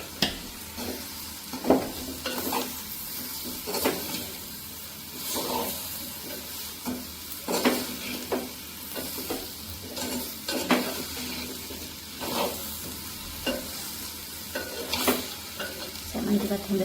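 Salmon pieces being tempered in a pan: steady frying sizzle throughout with repeated sharp clinks and scrapes of a spoon stirring against the metal, fairly close and alone with no talk.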